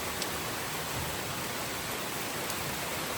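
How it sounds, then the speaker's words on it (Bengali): Sudden heavy rain falls at a family home, a dense, steady roar of downpour close by with no voices, unbroken from start to finish. "হঠাৎ করে নেমেছে এখন ঝমঝমিয়ে বৃষ্টি"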